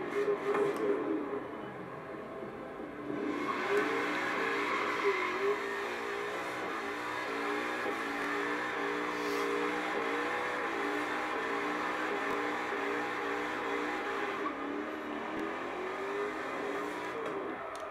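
Ford car in the Forza racing game revs and drones steadily as it drives, the engine note rising and shifting over a continuous moderate hum with no talking.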